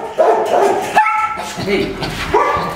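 Neighbourhood dogs bark in short, sharp bursts close by, with yips and a whimper mixed in, while someone speaks over them.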